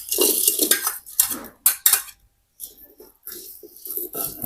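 Lemongrass, kaffir lime leaves and chili are dry-roasted in a pot over a charcoal stove, with scraping and stirring clatter of utensil against metal in uneven bursts and short pauses, close and fairly loud, without talk.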